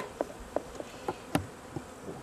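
Honeybees at an open hive being smoked, a few close, faint buzzing passes that come and go in short bursts over a quiet background.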